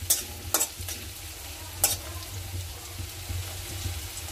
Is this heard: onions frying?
yes